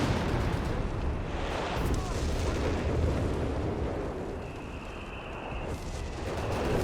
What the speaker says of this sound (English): A lot of artillery there at the Bishop.